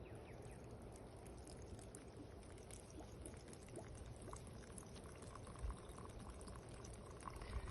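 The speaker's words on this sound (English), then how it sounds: "I'm gonna take my gluten-free, kosher, vegan, all-natural Barton's vodka, and I'm just gonna pour it in" Barton's vodka poured into a jar packed with plant matter for a herbal tincture, a steady continuous liquid gurgle and splash running throughout, close and moderately loud with no talking.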